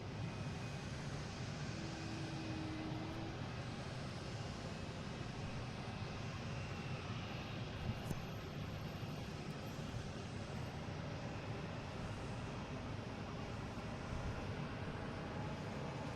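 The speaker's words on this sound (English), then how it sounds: "Lufthansa got the clearance for takeoff." A Lufthansa Airbus A350-900 bound for Munich takes off at Boston Logan, giving a steady, broad engine roar at moderate distance that holds for the whole stretch with no speech.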